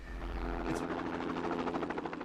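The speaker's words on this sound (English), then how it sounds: "Around 2 million kilograms of 1080 poison bait is spread by helicopters across New Zealand's forests and waterways every year." A helicopter flies over forest, giving a steady rotor thump and engine drone that stays loud and continuous throughout, with a brief whoosh early on.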